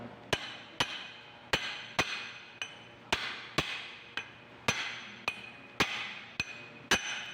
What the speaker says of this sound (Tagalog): Yan ang pupukin natin hanggang sa sumagad.